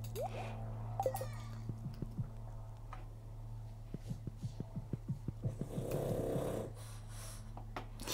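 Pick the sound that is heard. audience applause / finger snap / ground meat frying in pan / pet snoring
pet snoring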